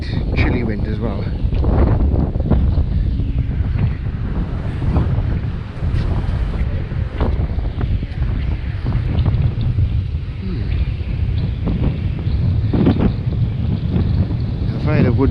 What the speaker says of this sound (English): Quite windy today and quite chilly wind as well.